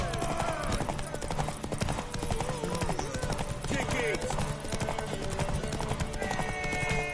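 Hoofbeats of a horse galloping in The Witcher 3 video game, a fast continuous clip-clop running throughout beneath music and a shouting voice.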